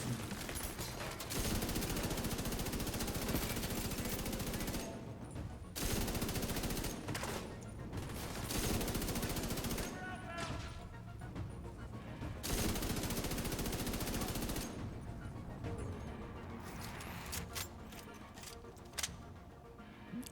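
Rapid automatic gunfire loaded with hollow point rounds fills a firefight in The Division 2, firing in long, dense bursts broken by short pauses, loud and close, with some talk underneath.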